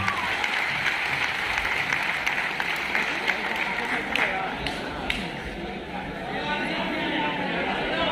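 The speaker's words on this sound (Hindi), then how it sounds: "एक बार जोरदार तालियां होंगी" An audience at a seminar claps in sustained applause, dense and steady, with chatter and voices mixed underneath.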